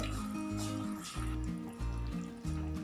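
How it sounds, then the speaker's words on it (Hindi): Water is poured from a glass into aloo methi, potato and fenugreek cooking in a pan, a short run of splashy trickling against a steady background hum, with no talk. "1 गिलास में पानी ऐड कर रही हूँ"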